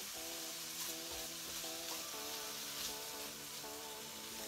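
Shrimp frying in a hot pan for shrimp pad thai, giving a steady, even sizzle throughout, moderately loud, with tonal background sound running underneath.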